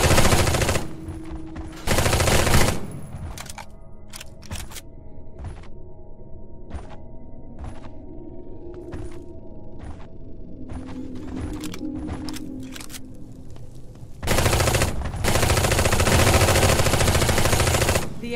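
Gunfire against a base in the Eximius: Seize the Frontline video game: long, loud bursts of rapid machine-gun fire frame a quieter stretch of sharp, regularly spaced single shots over a steady background hum.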